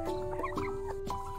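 Turkeys calling on a farm: short, close gobbling and clucking notes over steady tonal background noise, with no talk.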